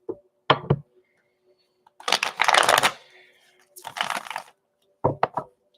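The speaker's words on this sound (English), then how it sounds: "I'm about to put it back and shuffle it" A tarot card deck is shuffled in several close, crisp bursts of riffling and snapping cards, separated by short quiet gaps, with no voices.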